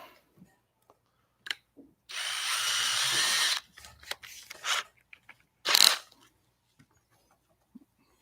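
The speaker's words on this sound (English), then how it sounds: "Come back in and try to drill them as good as I can." A small power drill with a 1/16 bit whirs in a short burst of about a second and a half, followed by scattered clicks, taps and a brief second buzz.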